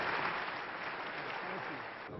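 Sustained applause from French deputies in the Assemblée Nationale after Bill Clinton's speech, a dense, even wash of clapping that holds steady throughout and thins slightly at the very end.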